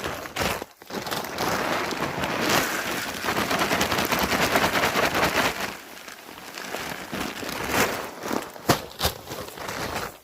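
Deer feed pellets pour into a feeder in a dense rattling patter, a continuous close hiss of hard pellets that rises and falls in bursts, with no talk.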